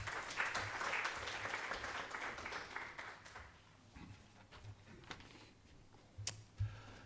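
A symposium audience at Hamad Bin Khalifa University claps to welcome a speaker to the stage. Quiet, fairly dense clapping gradually thins into a few scattered claps.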